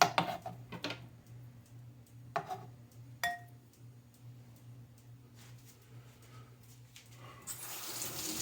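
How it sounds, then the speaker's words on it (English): Tap water runs over a knife in a kitchen sink to rinse off oil, a faint, steady trickle punctuated by a few sharp clinks and splashes close by. "Wash my knife of some of that oil."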